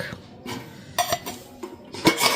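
Dishes, pots and cutlery clink and scrape in a home kitchen while rice is served, a series of sharp close metallic knocks and clatters spaced irregularly over a quiet background.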